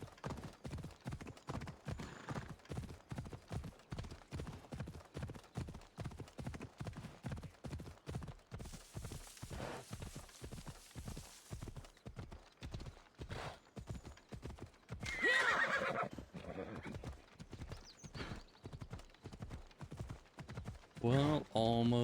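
Horse gallops in the video game Assassin's Creed Odyssey, a fast, steady clip-clop of hooves running throughout, with occasional whinnies and bursts of noise on top, close and fairly loud.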